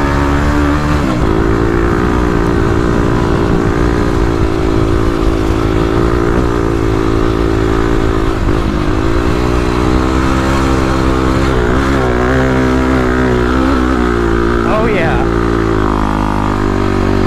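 A 35 hp Kawasaki KLX351 dirt bike revs hard on sand dunes, its loud engine droning continuously near and close with rising and falling pitch as it accelerates, and people talk over it in an outdoor setting.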